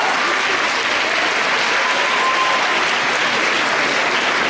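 Audience applause for a contestant at a cosplay competition at the Manga Dax 2017 convention, a steady, dense wash of clapping that fills the hall without pause, loud and even throughout with no voices standing out.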